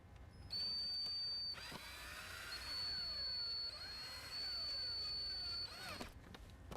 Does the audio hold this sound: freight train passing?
no